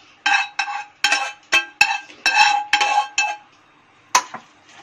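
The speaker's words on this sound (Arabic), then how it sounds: "هقلب الصلصة بتاعتي كويس كده،" A spoon clinks and scrapes against a pot in a series of short, close strokes as tomato sauce is stirred for a stuffed grape leaves and meat tagine, with brief pauses between strokes and no talk.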